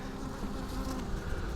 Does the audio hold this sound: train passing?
no